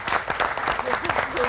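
Studio audience applauding the guests at the close of a French television talk show, a steady, dense clapping that carries on throughout, with some crowd voices mixed in.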